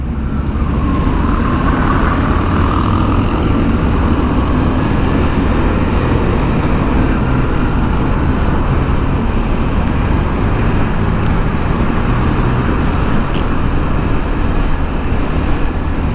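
A motorcycle rides in traffic along a motor lane, with a steady, loud roar of engine and road noise throughout and no clear voices.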